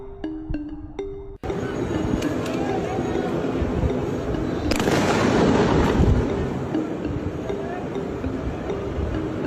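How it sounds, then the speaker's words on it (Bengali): Non-stop gunfire during unrest in Bangladesh: a dense, continuous barrage of cracks and booms, loud and echoing, preceded by a few sharp separate bangs, with a voice heard faintly among the noise. "নন স্টপ গুলি করতেছে তো।"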